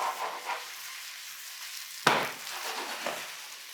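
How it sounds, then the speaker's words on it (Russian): Strips of sweet bell pepper fry fast in olive oil over high heat in a hot pan, giving a steady soft sizzle with one sharp clatter partway through and light stirring noises. "Огня много должно быть, мы их не тушим, а именно что быстро обжариваем."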